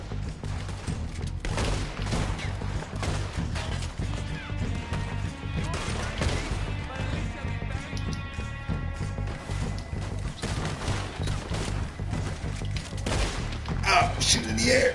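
Gunfire in Red Dead Redemption 2, repeated sharp cracks and impacts scattered through the clip over a dense background of game sound, with talk mixed in.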